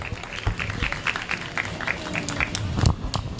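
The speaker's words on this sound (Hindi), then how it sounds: "एक बार जोरदार तालियां हमारी प्यारी सी प्रिया के लिए।" Guests at a sangeet ceremony clap for Priya, a moderate patter of scattered hand claps mixed with voices talking.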